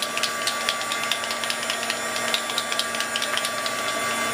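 A heat gun blows hot air to dry a mixed media background, a steady close whirring hiss with a faint tonal hum and scattered light ticks throughout, no talking.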